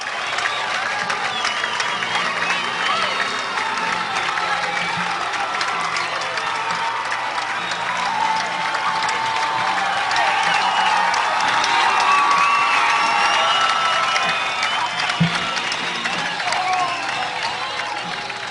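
Hometown crowd at a state baseball championship game in the Tri-Cities cheering and applauding, a loud, sustained roar of clapping and shouting that swells toward the middle.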